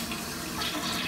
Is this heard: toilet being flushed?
yes